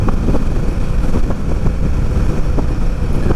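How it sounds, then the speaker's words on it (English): An Indian Scout Bobber motorcycle engine, about 100 horsepower, pulls hard at full throttle on a demo ride, a loud continuous roar mixed with heavy wind buffeting on the microphone. "Full throttle roll. Yeah. If you hold it, she'll deliver."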